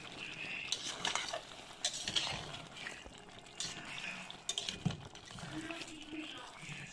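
Chili sauce for Veracruz-style steak being stirred in a pan, with soft scraping and gentle sizzling of the liquid, fairly quiet and close, with a few louder clatters of the spoon.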